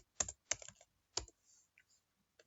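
Typing on a computer keyboard to enter an email address into an app screen design, a few short bursts of key taps with pauses between, close and fairly quiet, no voices.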